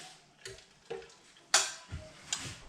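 A fork stirring tea in a cup, giving a few sharp, separate clinks and taps against the sides at irregular intervals, close and fairly quiet, with no talking.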